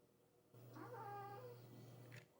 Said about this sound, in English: Wasn't the best moment to hear my cat having a nightmare